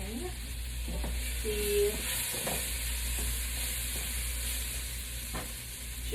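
Ginger and garlic sizzle softly in a pan while a utensil scrapes and stirs a few times, a low steady hiss under a constant background hum, with one brief spoken word.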